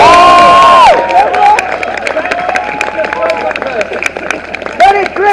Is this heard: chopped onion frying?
no